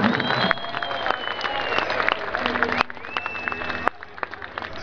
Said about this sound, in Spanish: Para ellos un aplauso